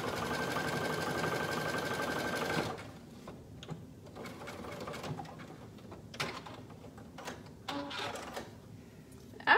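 A sewing machine stitches along the inner edge of wide elastic, running loud and steady for nearly three seconds before stopping, followed by quieter rustling and scattered handling clicks.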